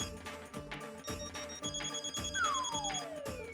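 A telephone rings in repeated short bursts against a busy background, with a descending tone sliding through near the end.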